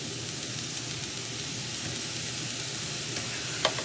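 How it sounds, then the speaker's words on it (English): Sliced onions for sliders sizzling on a hot grill, a steady dense crackle and hiss that stays level throughout, close and fairly loud, with a brief clink near the end and no voices. "We're just gonna kind of grill the onions. You're gonna see it's gonna start grilling here."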